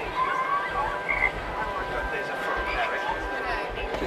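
Frog croaking at a theme-park attraction, set against busy crowd noise and chatter that continue throughout.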